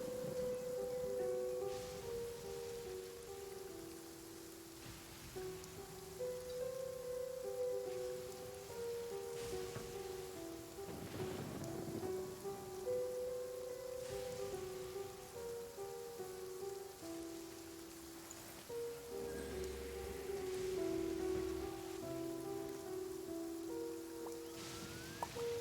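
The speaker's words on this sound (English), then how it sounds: "But I love listening to the rain." Rain falls steadily in the video game Genshin Impact, a soft continuous patter at low level that runs under sustained musical tones throughout.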